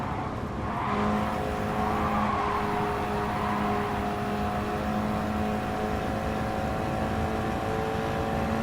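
Race cars in Gran Turismo Sport on PS4 Pro, engines droning steadily at close range with a constant high whine over a dense roar, loud and unbroken for the whole stretch, no talk.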